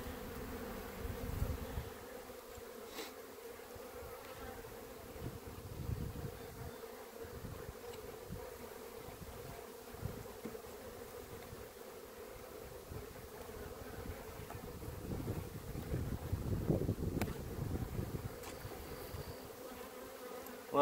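Honeybees drone steadily around an open hive during an inspection, a continuous low buzzing that swells and fades as the insects move close to and away from the frames, with no talking.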